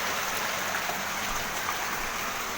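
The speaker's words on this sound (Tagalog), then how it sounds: "Tuwing umuulan ganito sa amin." Heavy rain pours down in a dense, constant hiss during a flood, steady and close with no pauses or voices.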